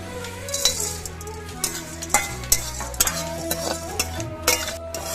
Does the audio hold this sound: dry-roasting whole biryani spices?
yes